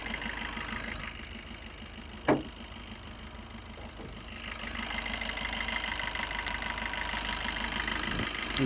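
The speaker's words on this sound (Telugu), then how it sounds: "ఇంజన్ బీటింగ్ కూడా చూడొచ్చండి" A 2020 Maruti Swift Dzire VDi diesel engine idles in a steady, low, even hum, with one sharp click partway through and a slightly fuller drone toward the end.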